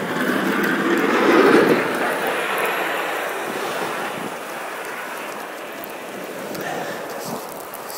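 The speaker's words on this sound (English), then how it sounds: "There's a snow plow going by." A snow plow rumbles past on a road during a Buffalo snowstorm, a broad steady roar swelling as it nears and then easing off, heard from a bicycle amid wind and slushy traffic noise.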